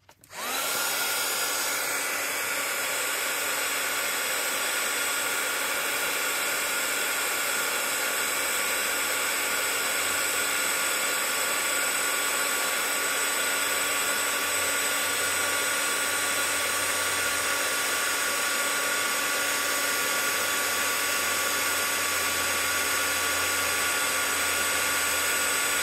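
A heat tool melting embossing powder on a flower blows a steady, loud whir with no break after it clicks on, running unchanged for the whole stretch.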